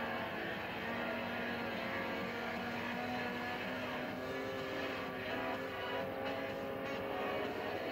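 A car is driven in the video game Forza Horizon, its engine producing a steady, continuous drone with a low hum throughout, moderately loud and without speech.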